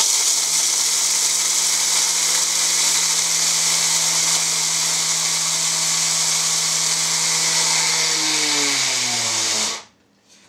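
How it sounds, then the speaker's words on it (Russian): A small electric coffee grinder grinds cacao beans at a loud, steady whine for nearly ten seconds, its pitch sagging slightly as the motor winds down before cutting off abruptly. "Помещаем часть плодов какао в кофемолку"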